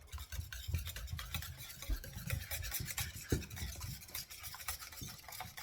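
Jam or jellied cranberry sauce being stirred for meatball sauce, a steady soft wet scraping and rubbing that runs on without a break, fairly quiet and close, with no voices.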